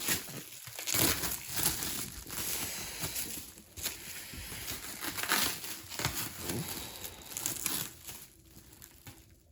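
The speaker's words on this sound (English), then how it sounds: "I hope I don't break any of the models with taking off the plastic." Plastic wrapping crinkles and crumples steadily as it is pulled off model airplanes during an unboxing, the close rustling continuing in irregular bursts with brief tearing sounds throughout.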